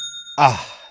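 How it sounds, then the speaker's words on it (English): A Shopify new-sale notification chime rings once as a bright, short, bell-like ding and decays quickly, clean and close, following a soft sustained tone. "That's the sound of another sale on Shopify"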